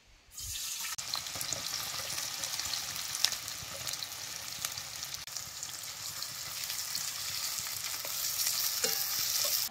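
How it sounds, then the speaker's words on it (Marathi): Onion sizzling and frying in hot oil in a kadhai while cooking aalni chicken, a steady loud crackling hiss that builds slightly over the clip, with no voices. "कांदा बी तेलात चांगला भाजतो"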